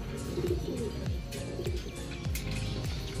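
Low, soft pigeon cooing repeats in short rolling phrases, close by, with faint chirps and background clatter.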